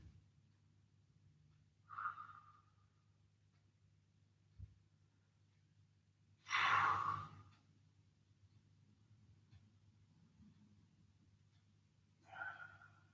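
Deep breathing during a home workout recovery session, three separate breaths spaced several seconds apart, the middle one the longest and loudest, close and quiet over a low steady hum, no talking.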